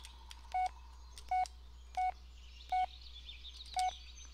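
An old mobile phone in the Blair Witch video game beeps as its keypad is pressed, five short evenly spaced tones sounding clearly over a low background hum, with no talk.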